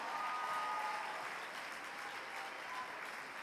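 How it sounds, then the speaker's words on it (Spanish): Steady applause from a church congregation, a dense even wash of clapping at moderate distance lasting a few seconds. "Yo quiero que todo el aplauso grande, grande, grande se lo entreguen a Jesús de Nazaret, el poderoso de Israel, aleluya."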